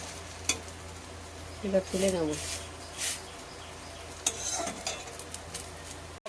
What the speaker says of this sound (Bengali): পাট পাতার চপগুলো সুন্দর করে ভাজা হয়ে গেছে